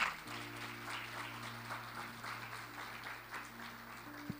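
A church congregation applauds the Lord, a faint, steady wash of distant clapping over a sustained low hum, with a soft thump near the end.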